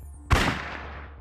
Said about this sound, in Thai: พลันเสียงปืนแผดลั่น